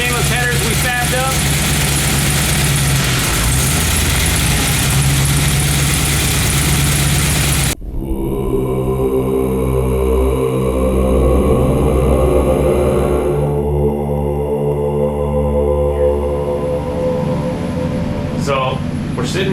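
Modified car engine with fabricated stainless headers and a new ECU, running at about three thousand rpm in a room, loud and droning, then dropping abruptly into a lower, rumbling tone with steady harmonic hum.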